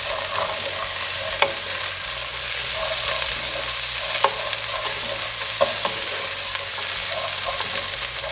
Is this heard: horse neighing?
no